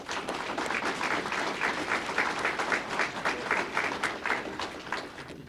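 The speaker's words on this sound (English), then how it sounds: "Let's give them a round of applause." An audience at a police awards ceremony claps steadily for a unit citation award, a dense patter of many hands at moderate distance that holds for several seconds without cheering.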